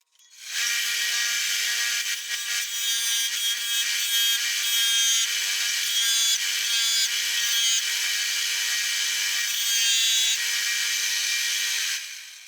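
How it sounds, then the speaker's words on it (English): Combination sander running on a chisel blade for a steady twelve seconds, a bright, continuous high-pitched grinding hiss with a faint motor hum beneath, starting and stopping cleanly, no talking. "my combination sander"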